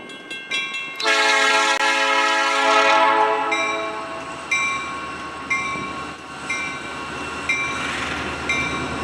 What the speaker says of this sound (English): saw NS 3558 as it was shunting a train in Watkins Yard